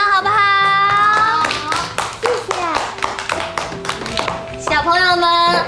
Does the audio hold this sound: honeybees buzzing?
no